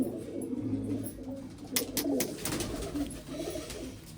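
Pigeons coo softly and repeatedly, low murmuring calls layered close by, with a few sharp rustles or flaps in between.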